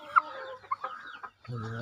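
Native roosters from a home backyard flock cluck in short bursts, a few sharp calls standing out near the start, followed by a fuller, lower clucking run at the end.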